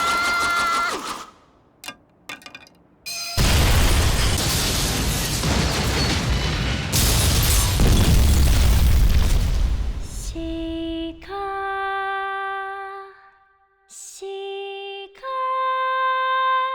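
An anime-style explosion sound effect as a gymnasium is blown up: a few sharp pops, then a long, loud roaring blast lasting several seconds, fading into clean, ringing tonal notes and short pauses.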